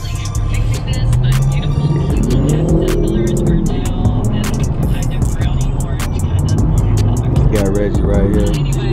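Corvettes rumbling and revving nearby as the club cars pull away, engine notes rising in repeated bursts under someone talking continuously and other voices.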